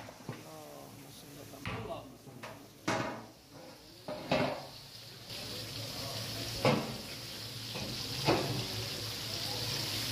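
A spoon clinks and scrapes against a pot of food during a Ramadan pre-dawn meal, several sharp metallic knocks spaced a second or two apart over a low background hum, with a voice speaking.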